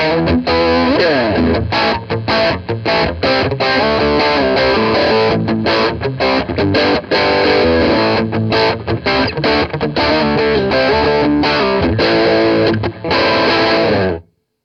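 An electric guitar plays a loud, continuous chordal passage through an Armored Amplification Little Rascal low-watt combo with a pedal, gritty and slightly chorused, with rhythmic stops before ringing off at the end.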